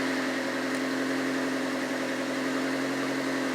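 A Kia car engine idling steadily after repair, a constant close hum with a low drone, unbroken and without talk over it.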